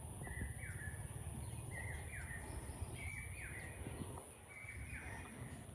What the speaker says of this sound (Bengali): চারিদিকে পাখি ডাকছে